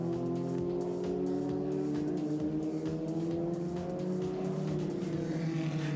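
Race cars drive through turn 8 toward the checkered flag, their engines whining with rising and falling tones at moderate distance. Several overlapping engine notes sweep past in a smooth, sustained drone.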